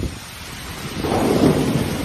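Rain falls steadily in Nara, Japan, where deer shelter alongside people, making a continuous broadband hiss that swells louder in the second half, with no voices.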